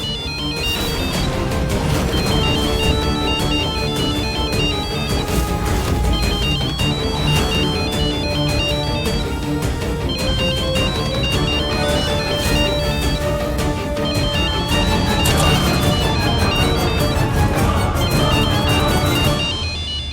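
An electronic phone ringtone plays a continuous melodic tune for about twenty seconds, steady and fairly loud, with no one speaking.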